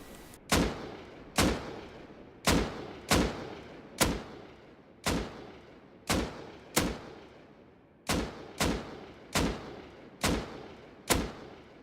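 Assault rifle in the video game Rust firing single shots at a steady, deliberate pace, about fifteen sharp cracks with short ringing tails, loud and close with no talking.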